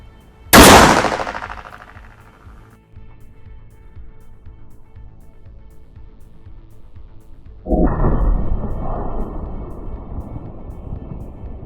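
A homemade Thai gun fires a single sharp, loud shot with a lead round at a target 5 metres away, then the sound rings down and a steady, rougher rumble follows.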